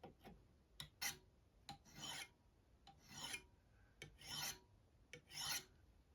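A burnishing rod is rubbed along the edge of a steel scraper in about ten short rasping strokes, each a quick scrape or a longer drawn pass, close and quiet with no talk.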